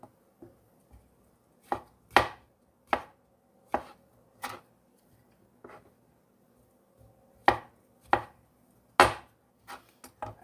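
A knife chops onions on a cutting board while making chicken pot pie, about fifteen crisp, close thuds in an uneven rhythm with short pauses and a quiet background hum.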